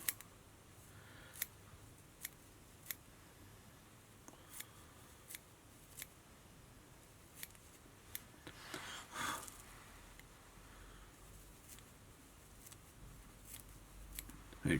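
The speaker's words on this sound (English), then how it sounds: "I cut this with scissors" Quiet, sparse snips of scissors cutting fly-tying material, sharp clicks spaced a second or so apart over low background hiss, with a brief rustle midway.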